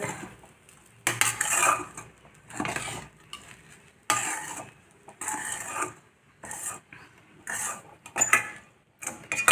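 A utensil scrapes and stirs poha around a metal pan in close, loud bursts of scraping and clinking separated by short pauses, with a faint sizzle underneath.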